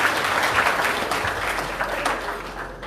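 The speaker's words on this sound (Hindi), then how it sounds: "चलो तालियों से इनको धन्यवाद" Short burst of audience clapping at a Ganesh Utsav katha gathering in a temple, steady and moderately loud for nearly three seconds with no talk over it.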